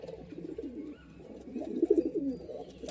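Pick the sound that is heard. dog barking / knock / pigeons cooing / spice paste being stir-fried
pigeons cooing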